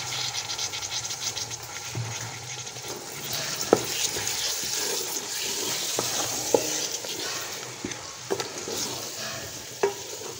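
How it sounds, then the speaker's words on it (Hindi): Half a cup of water goes into a pan of sizzling aloo keema, giving a soft hiss and bubbling with scattered clicks of a spoon stirring against the pan, fairly quiet and close. "अब मैं डालूँगी आधा कप पानी और फिर हम इसे कर देंगे कवर।"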